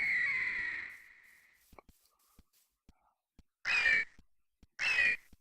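A Venturaptor, a feathered raptor mob from the Lycanite's Mobs mod for Minecraft, gives a long harsh screech, then two more short rasping cries after a quiet stretch with faint clicks.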